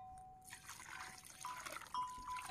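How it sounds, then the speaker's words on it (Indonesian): Mineral water trickles and pours into a cattle feed mix, a soft, close liquid dribble that starts after a brief quiet moment and continues faintly on its own. "langkah berikutnya kita kasih air teman-teman"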